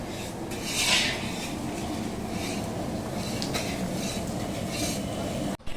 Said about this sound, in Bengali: এই মাংস করবো তাই পেঁয়াজটা ভাজছি।